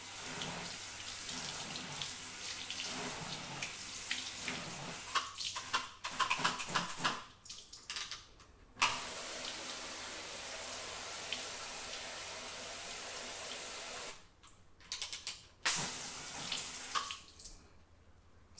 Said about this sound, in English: You can rinse it off and see how much is left.